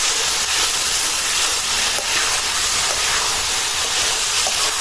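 Boal fish frying in a pan, giving a continuous loud sizzling hiss that stays steady throughout with no talking.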